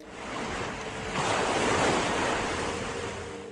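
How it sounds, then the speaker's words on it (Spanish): Rushing water from an approaching wave swells into a loud, broad roar, peaks midway and then slowly ebbs, with no voices over it. "volvieron a escuchar ese sonido del agua viniendo"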